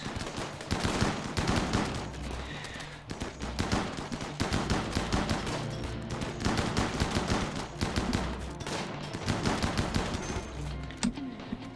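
Rapid bursts of gunfire as colonists armed with a legendary weapon shoot raiders in RimWorld, a steady clattering stream of close shots with brief pauses, loud and without talk.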